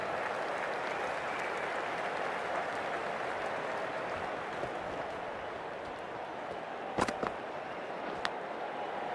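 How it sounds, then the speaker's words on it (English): Steady crowd applause from a first-class cricket match in the Cricket 24 video game, a continuous broad wash of clapping with a couple of sharp transient knocks near the end. "Please give them a round of applause."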